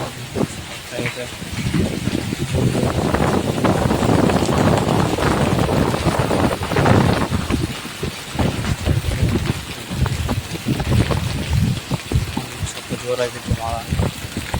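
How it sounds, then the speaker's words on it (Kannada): Rain falls outdoors in a Karnataka village after a dry week, a steady broadband wash with wind buffeting the microphone, while someone talks over it. "ನೋಡಿ ಇಟ್ಟ ತಕ್ಕ ಮಳೆ ಬಂತು"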